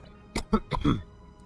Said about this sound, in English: Apologize for coughing.